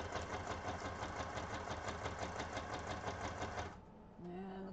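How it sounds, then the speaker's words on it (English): A tiny sewing machine runs a straight stitch through vellum paper in a steady, fast, even mechanical rhythm that stops near the end, followed by a brief faint tone. "Needle down, turn the page, and I'm going to do another straight stitch."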